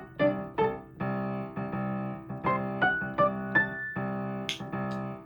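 Sculpture theme from the score of the short film La il·lusió efímera: a rhythmic sequence of clean, sustained synthetic tones in short repeated phrases, each chord starting with a soft attack and dropping out between notes, with no voices.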